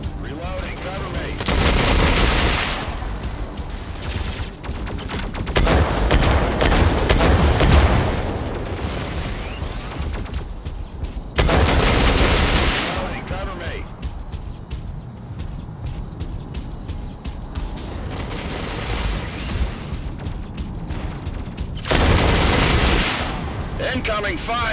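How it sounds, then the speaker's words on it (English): Gunfire in the mech combat video game Mech Arena: bursts of rapid automatic fire and heavy booming blasts come in loud waves, with quieter gaps between, mixed with game voice lines. "Incoming fire!"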